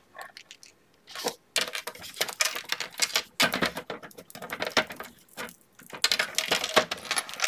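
Scissors snipping through a scrapbook album page, a busy run of close, crisp cuts and paper rustles in irregular bursts with brief pauses, no talking.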